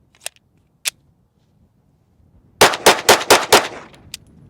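Five rapid pistol shots from a Staccato HD C3.6 compact 9mm, loud and close in a tight cluster, preceded by a couple of faint metallic clicks and followed by a light click as the slide locks back.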